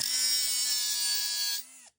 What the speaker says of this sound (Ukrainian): беремо болгарку, беремо кусок металу